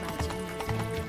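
Galloping hooves from Roach the horse in The Witcher 3: Blood and Wine beat out a quick, even clip-clop rhythm over a brief burst of in-game music.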